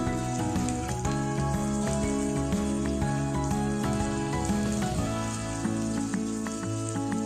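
Chicken breast sizzles in a hot pan in a steady crackling hiss, while music plays loudly over it throughout.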